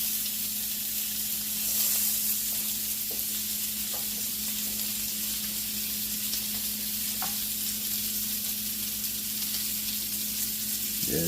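Salmon fillets topped with butter sizzle on a grill in a steady, crackling hiss with a few sharper pops, close and continuous for about eleven seconds with no voices.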